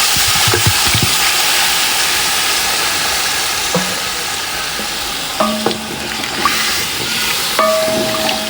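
Pork tails sizzle in a cooking pot, a loud, steady frying hiss that runs throughout, with a few clinks and brief tonal squeaks from the pot breaking in later.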